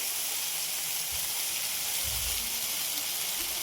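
Chopped tomatoes cooking under a lid in hot spiced oil tempering for a cauliflower curry, giving off a steady, even hiss and sizzle with faint soft bubbling underneath.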